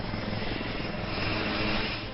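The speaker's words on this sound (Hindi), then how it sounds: "ये भारत में बना लाइट कॉम्बैट हेलीकॉप्टर यानी LCH है।" Indian-built Light Combat Helicopter (LCH) attack helicopter in flight, a loud, steady rotor thrum and engine roar holding evenly throughout with no voices.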